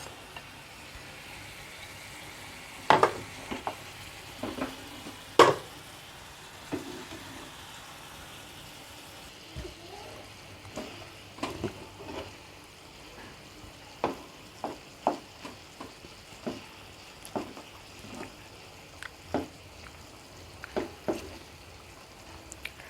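Fried tofu is tossed and stir-fried with chicken in a home-cooking pan, with a low, steady sizzle under scattered sharp scrapes and clacks of a spatula on the pan, and no talking.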